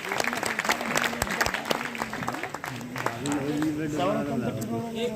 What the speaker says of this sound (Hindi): मैं चाहता हूँ एक बार उसके लिए और तालियां।